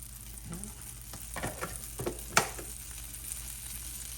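A stick of butter goes into a hot pan for a Jamaican caramel pudding, giving a soft, steady sizzle with a few scraping stirs and one sharp clink, fairly quiet and close, with no talking.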